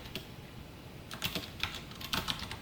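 Computer keyboard typing while writing JavaScript code, a few soft clustered keystrokes over faint room noise, close and quiet, no voices.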